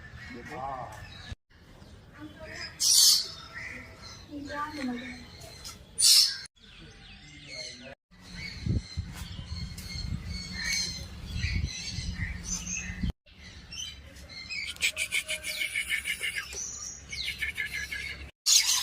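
Noisy bursts of squawks and chirps from black parrots jostling over food at Vadodara zoo break out amid chatter and background sounds, with harsh calls rising and falling unevenly.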